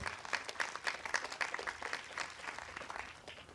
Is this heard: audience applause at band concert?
yes